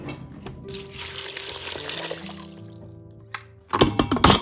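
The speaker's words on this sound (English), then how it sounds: "Put 2 cups of water in there." Two cups of water pour into an Instant Pot holding Medjool dates, a steady splashing stream close by that fills the pot, then stops, followed by a few sharp handling clatters.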